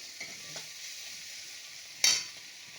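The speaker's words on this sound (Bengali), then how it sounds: "একটু কড়া করে ভেজে নিই ভাজাটা একটু" Meat frying until crisp in a pan gives a soft, steady sizzle, with a few faint stirring scrapes and one louder scrape near the end.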